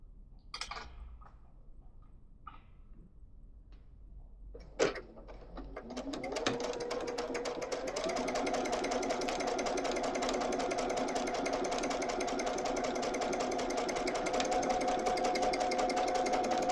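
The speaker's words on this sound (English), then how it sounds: "take this through the sewing machine" A sewing machine stitches a quilt block from about six seconds on, a steady, fast mechanical whir that holds evenly to the end, after a quiet stretch of handling and a sharp click.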